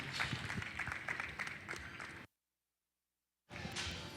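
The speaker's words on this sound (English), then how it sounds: "Give him a good round of applause in your final Hampshire drive" Audience applause at a junior market barrow show honoring the final Hampshire drive, a dense steady clapping that runs for about two seconds, breaks into a short silent gap, then resumes.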